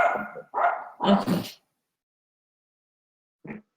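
Dogs bark outside in a quick run of three or four loud, close barks, then fall quiet before one short final yip.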